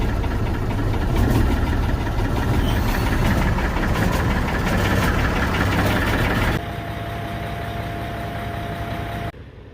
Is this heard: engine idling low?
yes